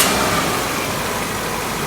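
A 2011 Maruti Gypsy engine in Bangalore runs with a loud, steady, close rumble for the whole stretch, with no talking over it.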